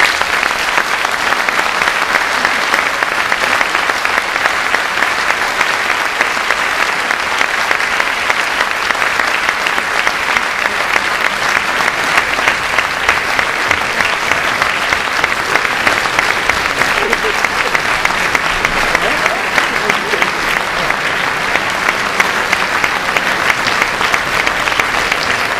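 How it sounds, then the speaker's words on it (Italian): Sustained audience applause from a live crowd as a guest, Luciano D'Alfonso, comes onto the stage, a dense steady roar of clapping that holds throughout at close range and even loudness. "Chi viene sul palco l'applauso lo gradisce nel momento che entra sul palco"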